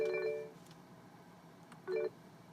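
An incoming phone call rings through the Bluetooth system of a 2012–2018 BMW X3 fitted with Apple CarPlay, two short electronic ring bursts separated by a quiet pause inside the car.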